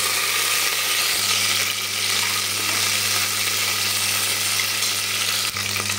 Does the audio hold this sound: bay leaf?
yes